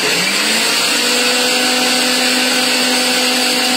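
Blender grinding ice and coffee for a cold iced coffee, a loud, steady, close whirring roar with ice churning, continuous without pause and no talking.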